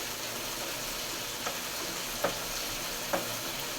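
Green chillies and curry leaves sauté in hot oil for fish thokku, a constant close sizzle with three soft stirring clicks spaced about a second apart.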